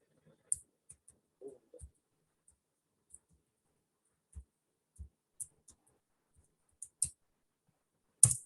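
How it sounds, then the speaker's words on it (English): Someone typing an email address on a computer keyboard: a few soft, scattered keystroke clicks with pauses between them, close by and quiet, with no talking. "And I am just typing my email address here."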